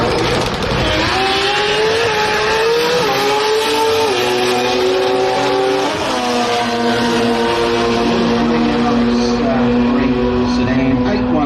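Drag racing cars launch down the strip during round 3 of the Garrett Brisbane Jamboree finals, with a loud engine note climbing in pitch and dropping at each gear shift, roaring continuously for the whole run.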